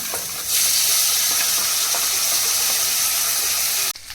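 Chicken drops into a pan of hot frying masala and a loud, steady sizzle rises and holds, with a few faint stirring scrapes, close by.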